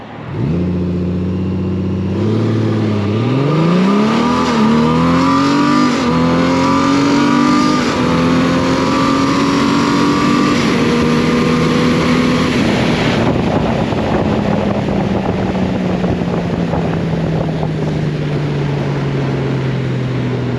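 A 2022 Honda Goldwing motorcycle accelerates hard toward 150 km/h, its loud engine note climbing through the gears before steadying into a sustained high-speed drone with rising wind rush.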